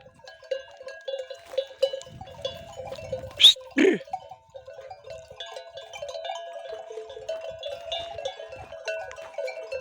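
A flock of sheep is herded in a village, their bells clanking and jingling continuously nearby, with a couple of loud bleats and a herder's short calls rising over the steady bell chatter.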